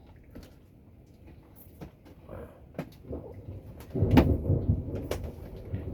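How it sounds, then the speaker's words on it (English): A summer hailstorm passes outdoors, with scattered taps and rattles of hailstones and rain, then a louder rumbling burst of thunder or heavy hail building near the end. "So today was a hailstorm."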